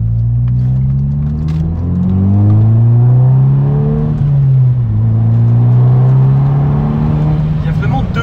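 A Volkswagen Scirocco R engine revs up under hard acceleration, its rising drone climbing in pitch through gear changes, heard from inside the car while people talk over it.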